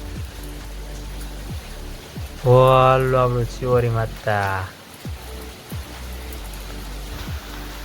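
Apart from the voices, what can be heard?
rain falling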